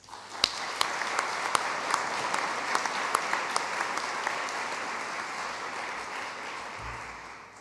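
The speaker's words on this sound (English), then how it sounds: "Please join me in a round of applause to acknowledge the contribution of the" Applause at an awards ceremony honouring the Commissioners, a steady wash of many hands with a few sharp, distinct claps standing out near the front, holding evenly before thinning slightly at the end.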